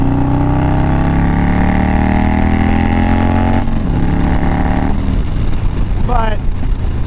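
Harley-Davidson Dyna motorcycle engine running steadily while riding, a loud continuous rumble with harmonic drone that shifts pitch near the end as it revs.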